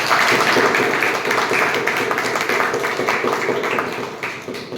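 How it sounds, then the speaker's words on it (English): A Toastmasters club audience applauds at a regular meeting, giving a round of clapping for a new member. Dense, lively hand-claps fill the room, sustained and fairly loud, tapering slightly at the end. "can we have a round of applause for Toastmaster?"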